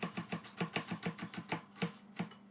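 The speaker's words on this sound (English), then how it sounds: "I'm putting 1 clove of garlic into my mirepoix, and the other half I'm going to chop a bit smaller." A knife chops a clove of garlic for mirepoix on a cutting board, about a dozen quick, close, crisp taps in a steady rhythm that slows slightly toward the end.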